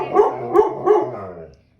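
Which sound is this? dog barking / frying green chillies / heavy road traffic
dog barking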